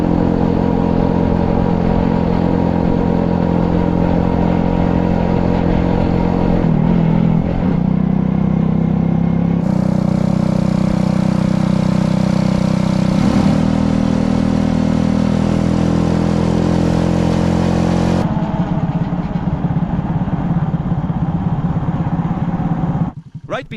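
Motorbike ridden along the Ho Chi Minh Trail in Vietnam near the Laos border, its steady mid-pitched engine drone running loud and continuous with wind buffeting, shifting in tone a few times as the bike changes pace.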